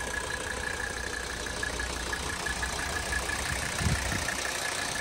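A 1983 Mercedes 300D diesel engine idles steadily and fairly quietly, a constant low clatter with a faint high whine running throughout.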